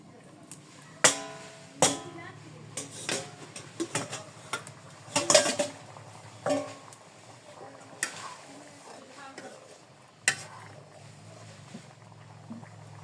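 In a home kitchen, a metal lid goes onto a cooking pot of hilsa fish with sponge gourd in gravy: scattered sharp clanks and clatters, some loud and ringing, spread over several seconds against quiet room noise.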